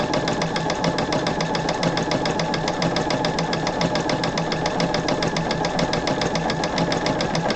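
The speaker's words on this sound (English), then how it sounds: "I have my machine set so that the needle stops in the down position each time" A home sewing machine runs steadily, stitching fusible-backed fabric for quilt blocks, with a fast, even rhythmic chatter of needle strokes that stays loud and close throughout without pause.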